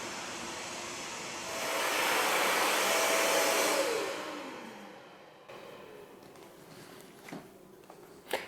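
A shop vac with a floor sweep attachment roars steadily up close, swells louder for a couple of seconds as it picks up from the shop floor, then winds down, followed by a few faint knocks and shuffles.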